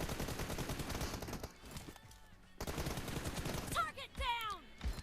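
Automatic gunfire in a first-person shooter video game, rapid bursts of shots crackling for the first seconds, then more firing with other game effects, while a person talks over it.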